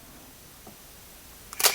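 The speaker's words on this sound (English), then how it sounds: "And here's your film advance lever." A Nikon Nikkormat FTN 35mm film camera gives a faint click midway, then a louder, quick burst of mechanical ratcheting and snapping near the end as the film advance lever is worked, over a quiet room background.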